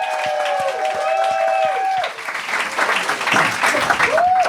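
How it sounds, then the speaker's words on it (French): A comedy audition audience at the Gong Show breaks into loud, dense applause with some cheering for a performer taking the stage, while a sung or held vocal tone rings over the first half. "Commencez à applaudir pour Joao"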